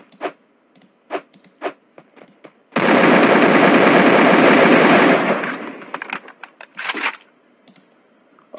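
Sustained automatic gunfire from the video game Free Fire roars for about two seconds, loud and dense, framed by scattered sharp clicks before and after.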